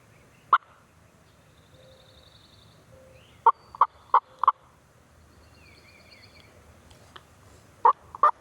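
A wild turkey gobbles several times from a distance while still roosted in a tree in a burned Florida forest, short bursts separated by quiet pauses, with faint birdsong in the background.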